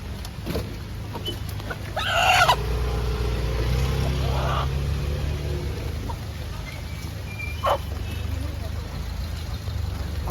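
Free-range country chickens clucking with a rooster crowing at mid-distance, over steady low background rumble and some talk.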